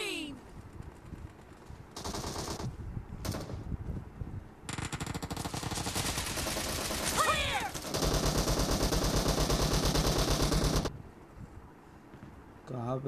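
Gunfire in a video game: long sustained bursts of rapid automatic fire broken by short pauses, with shorter separate volleys and a voice speaking in between, loud and close.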